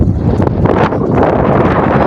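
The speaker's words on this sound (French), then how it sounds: "Peut-être le bruit du vent." Steady, loud wind buffeting the microphone on a beach on Eden Island in the Seychelles, a continuous low rumble with gusty swells and no voices.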